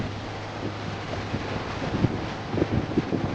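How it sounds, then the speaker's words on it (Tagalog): Typhoon Quinta's wind blows steadily past a house terrace, a rough, constant roar with gusty bumps and buffeting against the microphone, faint rustling mixed in and no voices. "Lakas pa rin ang hangin."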